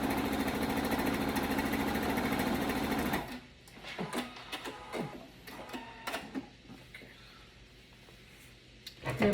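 A sewing machine runs steadily for about three seconds as it stitches the side seam of a sleeveless shirt, then stops, followed by quiet clicks and fabric handling.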